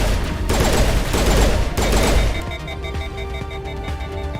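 Intense weapon fire in the sci-fi shooter Mass Effect Legendary Edition on PS5, a dense crackling volley for about two seconds, then ringing, tonal aftermath with faint scattered impacts.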